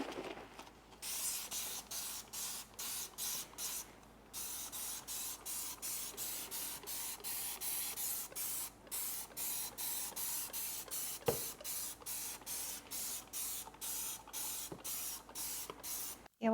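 A leaky spray bottle misting Pure Crop 1 onto houseplants during chores, with dozens of quick rhythmic hissing squirts in steady succession, close and fairly quiet, with no talking.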